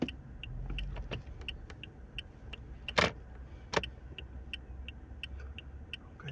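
Cars idling and creeping in traffic at a stoplight in Saudi Arabia, a low road rumble with scattered small clicks and two sharp louder knocks or thumps standing out midway, no talk.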